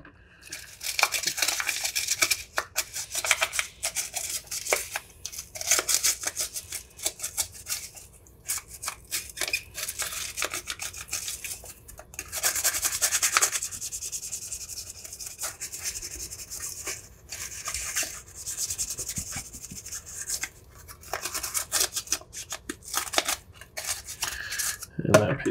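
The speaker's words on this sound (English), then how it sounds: "let's scrub the bottom piece first." Brush scrubbing the bottom half of a six-button Sega Genesis controller's plastic shell, with close, steady scratchy strokes in a continuous back-and-forth rhythm and brief pauses.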